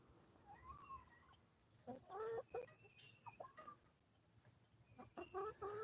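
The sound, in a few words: rooster clucking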